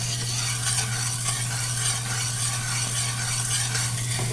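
Sugar syrup for peanut brittle bubbles and seethes steadily in a pot at close range, a dense continuous boiling texture with a faint clink at the end.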